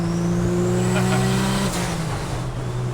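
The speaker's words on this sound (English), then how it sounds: "you hear that distinctive inline six sound and that whistle of the turbo and the blow-off valve" Turbocharged inline-six engine in a 1965 Chevy C10 Fleetside pickup, a steady loud drone with a rising turbo whistle, then a drop in pitch as the throttle lifts near the end.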